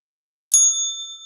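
A single bright bell ding marks the trading session, struck once with a clear ringing tone that decays slowly, alone and close.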